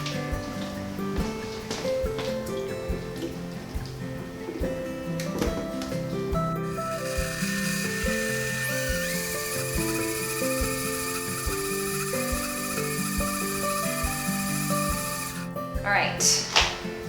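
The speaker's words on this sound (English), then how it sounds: "because I'm doing it in my high-speed blender" A high-speed blender purees chopped ginger chunks, garlic cloves and broth. It kicks in abruptly with a bright, whining roar, holds steady for about nine seconds, then cuts off sharply, with a voice talking around it.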